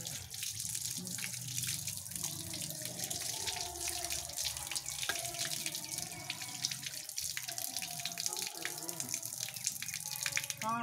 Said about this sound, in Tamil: சோப்பு போட்டு கை கழுவணும், புரியுதா?